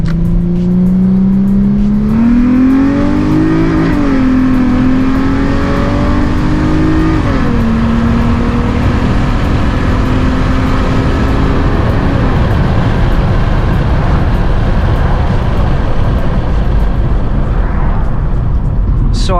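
Infiniti G35 with a muffler delete, about 240 horsepower, accelerating hard, its loud engine rising in pitch through several gear changes and then settling into a steady drone at speed.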